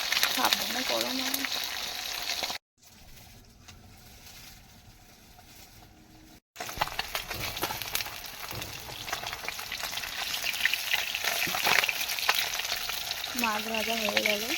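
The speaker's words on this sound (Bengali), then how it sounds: "মাছ ভাজা হয়ে গেল।" Fish fries in a pan over an outdoor cooking fire on a windy day, giving a steady, close sizzle with a brief drop in level partway through and faint voices now and then.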